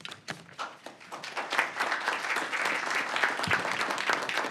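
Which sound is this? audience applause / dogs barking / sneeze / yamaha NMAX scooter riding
audience applause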